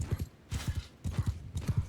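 Horses gallop across a battlefield in Mount & Blade II Bannerlord, hooves beating in quick repeated clusters, close and steady with no voices over them.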